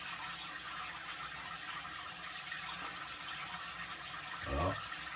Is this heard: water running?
yes